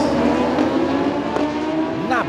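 GP1000 racing motorcycles roar off the grid at race start in Santa Cruz do Sul, a dense, loud wall of engine noise with rising revs and a pitch sweep near the end, under excited commentary.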